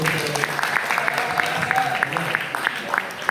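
Audience at an Indonesian book discussion event clapping steadily, a dense patter of applause with some crowd murmur underneath.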